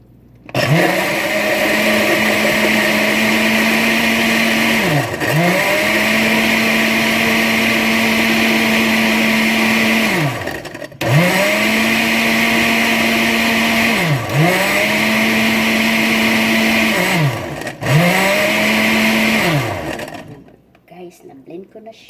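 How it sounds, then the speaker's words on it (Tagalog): A loud blender motor whirs steadily while blending strawberries and water for lemonade, cutting off and restarting several times in bursts of a few seconds, then stops. "Tapos i-blender natin."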